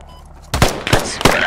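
A light machine gun fires in the video game Squad, giving three sharp, loud, close bursts in quick succession.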